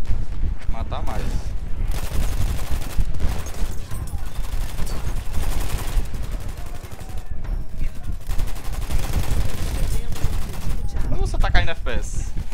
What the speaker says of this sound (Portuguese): Abaixa que é muito tiro.